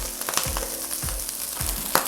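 Chickpeas with ground cumin and seasonings crackling in a hot pan for chickpea gyros, a close, steady sizzle with repeated low scraping strokes and occasional pops, no speech.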